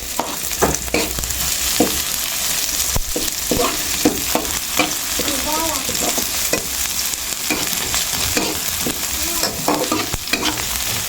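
Garlic, onion and ginger sautéing in a pan for fish escabeche, with a loud, continuous sizzle broken by frequent scraping and stirring strokes of a spatula throughout, close up and without talk.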